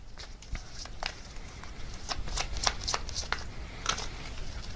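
Tarot advice cards being shuffled by hand, a close run of quick papery riffles and soft slaps with no voice.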